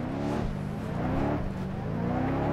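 A car engine hums and revs while driving in the video game Watch Dogs Legion, a steady mid-level whir with small rises in pitch and no talking.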